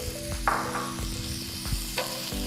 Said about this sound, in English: So you toss the ham in there.